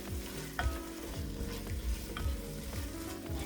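A chicken pot pie soup mixture is stirred in a pot, with a soft background sizzle and repeated low scraping and sloshing strokes in a loose rhythm, close and fairly quiet.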